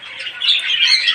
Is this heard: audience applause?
no